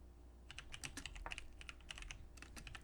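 Rapid clicking of computer keys, an uneven run of light taps at close range in a quiet room.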